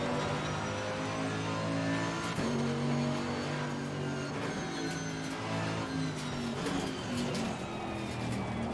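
A GT3 race car engine in Assetto Corsa Competizione roars steadily around Mount Panorama, its pitch rising and falling through gear changes and braking into corners, loud and continuous throughout.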